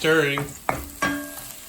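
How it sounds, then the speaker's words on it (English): A spoon stirring and scraping in a pot of browned onions for French onion soup, two sharp scrapes after a faint tonal whine, close and clear with no voices. "Okay, stirring."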